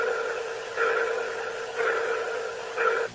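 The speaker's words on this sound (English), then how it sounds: "It was kind of like a pulsing noise, almost like a sonar ping." Pulsing radio noise from a spacecraft speaker, like a sonar ping: three swelling electronic tones rising out of a steady hiss, about one second apart, ending abruptly.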